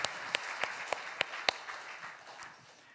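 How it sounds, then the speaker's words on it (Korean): A church congregation gives a brief round of applause during a sermon, a few sharp, spaced claps standing out over a soft patter of scattered clapping that thins and fades within a few seconds. "박수 한번 하겠습니다"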